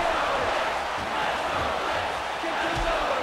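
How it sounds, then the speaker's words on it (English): Arena crowd at an MMA fight roaring steadily in support of a fighter, a dense, loud wash of voices that holds for a few seconds. "The crowd showing their support for Blitz"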